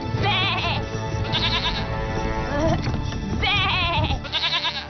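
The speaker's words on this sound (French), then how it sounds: "Il n'y a pas de chèvre dans la jungle" A cartoon goat bleats repeatedly in a jungle scene, its wavering, nasal cries arriving in several loud bursts over a busy musical background.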